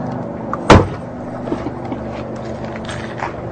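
A car door shuts with a single sharp, loud thud near the start, followed by a quiet idling background and a few faint knocks.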